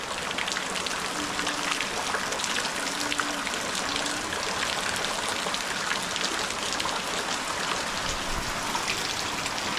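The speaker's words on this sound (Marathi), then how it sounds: "मोठा आलाय पाऊस" A heavy downpour falls around a home: a continuous, even wash of rain with pattering drops and trickling water, with no one speaking.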